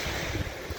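Sea waves and wind at a beach in New Caledonia, a steady low rumble of surf with wind noise buffeting the microphone, no voices.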